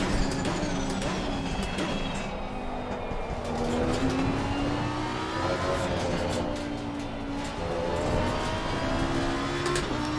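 Race car engine in Assetto Corsa Competizione from the Italian cars of the Challengers Pack, droning steadily through rising and falling revs for the whole stretch, close and loud, with no voices over it.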